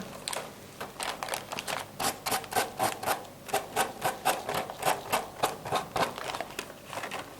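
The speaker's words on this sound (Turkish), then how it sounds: "Zımparayla düşürme dediğimiz bir teknik." Rhythmic back-and-forth rasping of sandpaper rubbing on a wooden tray, quick regular strokes repeating steadily at close range with no talking.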